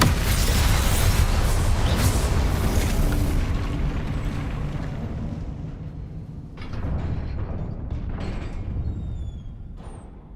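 Spell blasts and booming magical bursts in the Hogwarts Legacy video game, a dense roaring rumble that fades partway through before a second surge of crackling impacts, loud and continuous with no voices.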